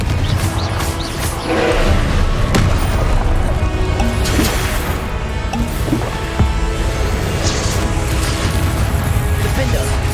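Confringo blasting spells explode in a Hogwarts Legacy spell battle, loud booms and bursts breaking through a dense, continuous wash of combat noise.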